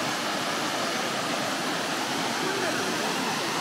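A sliding waterfall roars over rock in Yokoya Gorge along the Shibukawa river, a dense, steady wash of rushing water, loud and close, with no pauses.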